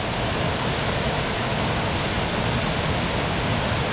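Steady broadband rush of water from a waterfall at Rutledge Falls, a constant close hiss of falling water with no breaks and no voices over it.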